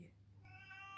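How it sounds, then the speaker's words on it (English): A house cat gives a single short meow, fairly faint and indoors, with no talking over it. "sorry if you can hear a cat meowing."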